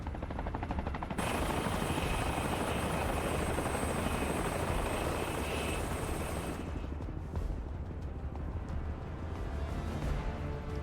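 The Hightwing airship in Final Fantasy 7 Rebirth flies with a loud, steady rotor-like roar and high whine that fills most of the span, then drops to a quieter rumble near the end.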